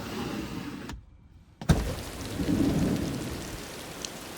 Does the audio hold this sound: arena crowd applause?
no